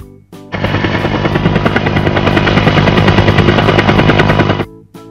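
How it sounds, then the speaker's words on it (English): A rapid, chopping mechanical beat from a helicopter thuds loudly and steadily for several seconds, starting and stopping abruptly. "Helicopter. Helikopter."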